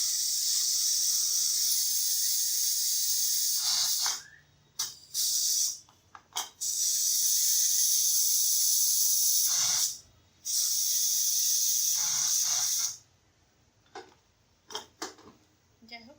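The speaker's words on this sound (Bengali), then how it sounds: "প্রেশার কুকারে একটা টিপস বলি, প্রথমে কখনো এমনি খুলতে যাবেন না, তাহলে এভাবে গ্যাসটা বের করে খুলতে যাবেন" A pressure cooker holding goat trotter nihari vents steam before opening, a loud, close hiss in long sustained bursts broken by short cuts, giving way to quieter sputters at the end.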